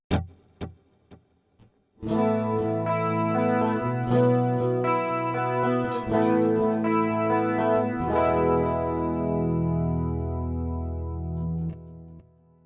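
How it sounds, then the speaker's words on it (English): A few plucked clean 80s-style guitar notes from a Fractal modeler ring out, then a sustained chord plays with quarter-note mono tape delay echoes trailing behind each strike, moderately loud with no voices. "have a monotape delay set up at a quarter note"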